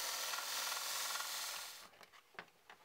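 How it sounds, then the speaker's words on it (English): Plastic trim for an MX5 Miata roll bar being cut and sanded: a steady close abrasive rasp for nearly two seconds, then a few short scraping strokes. "Keep cutting it and sanding it until it fits neatly around the roll bar and looks good."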